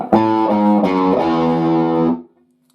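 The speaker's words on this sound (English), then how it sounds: "And that's just a descending major scale run." A distorted electric guitar plays a short descending major scale run from a song, a few stepped notes that sustain and then cut off sharply into silence.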